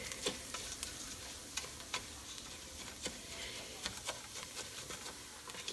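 Rice browning in a frying pan gives a faint, steady sizzle dotted with small irregular ticks and pops as the grains toast.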